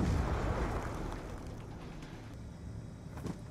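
A frag grenade goes off in a video game, a loud booming blast at the start that rumbles and decays into a fading low roar over a few seconds.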